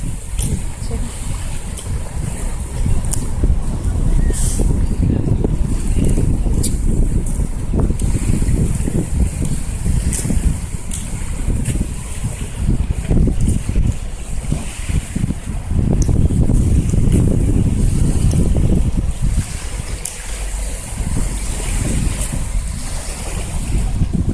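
Strong wind on a seaside walk blows continuously, buffeting the microphone with loud, gusty rumbling throughout, with the sea faintly beneath it.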